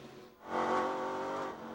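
NASCAR race trucks surge hard off a restart at Topeka in 1997, a dense engine roar swelling after a brief dip and holding steady and loud to the end.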